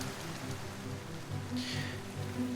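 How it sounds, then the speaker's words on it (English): Steady light rainfall in the video game Minecraft, a soft even hiss of drops throughout, quiet and continuous with no talking. "It's raining."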